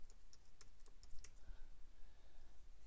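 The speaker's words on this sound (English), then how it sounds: "let's type this out first" Computer keyboard typing out a word, with a quick run of light, crisp key clicks in the first second or so followed by quieter tapping, close by and faint against a low background hum.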